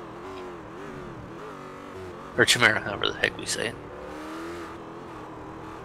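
Race cars in the Spa-Francorchamps 24 hours race heading toward Blanchimont, a low engine drone under commentary with a sharp cluster of loud revving passes in the middle.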